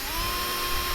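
A power drill with a carbide bit bores straight through a round metal tube, giving a steady, dense high-pitched whine that holds evenly and close up with no talk.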